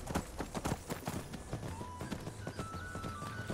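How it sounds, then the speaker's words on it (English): Horse hooves clop rhythmically while riding in the Skyrim video game, a steady galloping patter of close hoofbeats with faint game ambience and tones underneath. "Now I'm going by horse now because it's a lot quicker to do."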